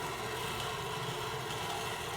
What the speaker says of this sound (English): you can start the drill off.